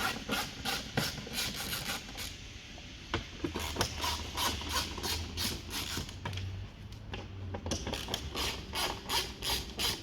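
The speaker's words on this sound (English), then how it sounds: "Firstly, undo the 4 T25 screws along the top of the grille." A ratchet driver with a T25 bit undoes the grille screws on a VW Tiguan Mk2, producing rapid repeated clicking bursts close up, with short pauses between runs of clicks.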